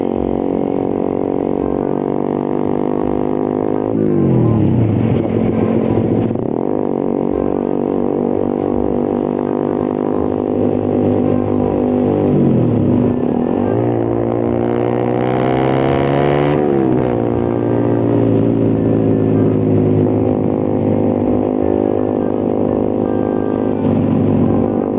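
A motorcycle engine on a ride around Lamongan, with a steady loud drone and repeated rises and falls in pitch as the rider revs and shifts through gears.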